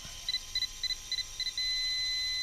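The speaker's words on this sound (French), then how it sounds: "Quand elle sonne en haut en bas, une sonnerie continue, c'est que le niveau est là c'est trop haut, là c'est trop bas" A NEDO laser level with a telescopic tripod gives six quick, evenly spaced high beeps, then switches to one continuous steady tone, faint and close.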